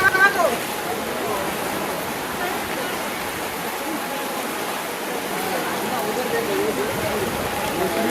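Heavy rain roars in a dense, steady wash of noise for the whole stretch, loud and unbroken, at Trimbakeshwar, with streets flooded.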